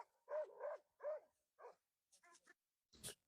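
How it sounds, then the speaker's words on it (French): A dog barks in a series of short, close barks, about five in quick succession, followed by softer scuffling noises and one sharp burst at the end. "Ce chien attend juste un signal."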